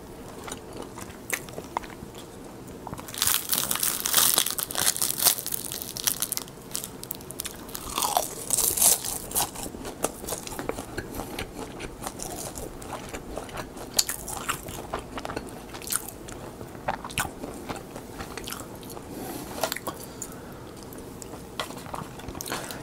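Crunching on seasoned laver snack sheets with pollock roe flavor: close, crisp bites and steady crackly chewing, repeated continuously and loud, with no talk.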